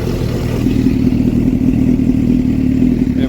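A motorcycle engine cold starts and settles into a loud, steady, close idle with a constant low throb and slight rattling throughout, with no voices.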